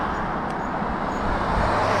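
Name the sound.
cars zooming past on a narrow forest road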